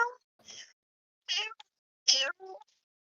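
Cat meow sound effect played during a tabletop role-playing game session: four or five distinct, fairly loud meows separated by short silences, each rising and falling in pitch.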